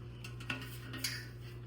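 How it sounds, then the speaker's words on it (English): A spoon clinks and scrapes while Southern cornbread dressing seasoned with sage and salt is moved into a decades-old cooking pan: a few soft, close metallic taps over a quiet kitchen background, with no voices. "And now I'm gonna put it in a pan that I cook it in."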